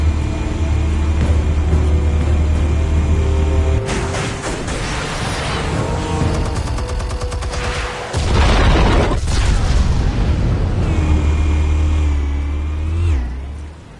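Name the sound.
explosives detonating in Batman: The Telltale Series video game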